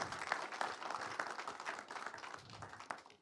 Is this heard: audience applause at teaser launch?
yes